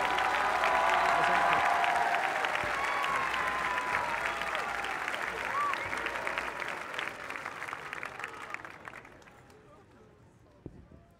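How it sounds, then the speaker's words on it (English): Sustained audience applause at a drum corps open class championship finals, dense clapping and crowd noise that stays full for several seconds before gradually thinning and fading out near the end. "One more round of applause for"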